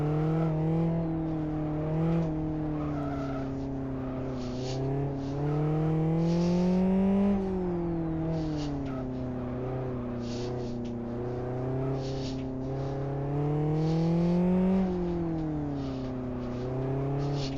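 A car engine in a sim racing video game revs and drones steadily, its pitch rising and falling through gear changes over a continuous loud hum, with no talk.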